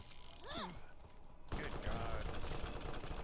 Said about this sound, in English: times the explosive SMG with that much fire, it's actually pretty good